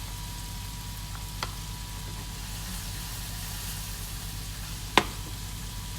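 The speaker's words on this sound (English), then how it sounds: "so I'm just gonna let that fry" Food frying in a pan during a home cooking demonstration, a faint steady sizzling hiss with a couple of small sharp ticks, no one talking.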